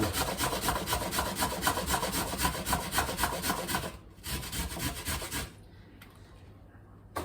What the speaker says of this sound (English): I've taken the golden sweet potato, little chunk, and I'm going to grate that on the fine